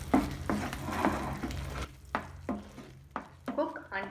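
Masala is stirred in a pan, with repeated close scraping strokes and a low sizzle, spaced in short bursts over a few seconds.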